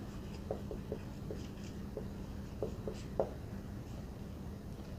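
Chalk or marker tapping and scratching on a board in a classroom, short faint strokes spaced irregularly over a steady background hum, no voices.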